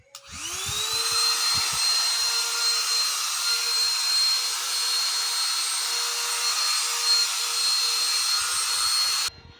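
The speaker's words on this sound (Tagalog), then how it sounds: "Vacuum na ito." A newly unboxed 3-in-1 vacuum cleaner switches on and runs with a loud, steady motor roar and high whine, holding constant for about nine seconds before cutting off.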